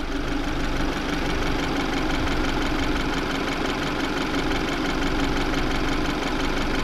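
A car engine idles steadily with a constant low rumble and faint mechanical ticking, close and unbroken throughout.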